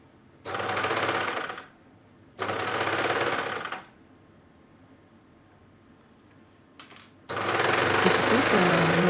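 A sewing machine stitches a belt, basque and skirt together through several thick layers, running slowly in three loud bursts of rapid needle chatter separated by pauses with faint background noise.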